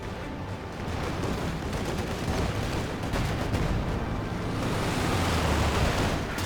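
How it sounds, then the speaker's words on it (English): Dense, rumbling gunfire and explosions from a Company of Heroes 2 battle, including an infantry support gun, form a continuous noisy wash of battle sound with no clear separate shots. "the stolen infantry support gun for VindicareX is still getting some shots in there."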